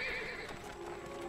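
A horse in an animated Bible-story cartoon gives one loud, close whinny that trails off, followed by faint clip-clopping hooves, with no talking.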